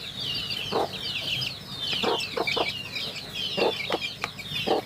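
Rooster clucking repeatedly in short bursts at close range in a home farmyard, with other fowl chatter and a steady background of outdoor noise, no voices.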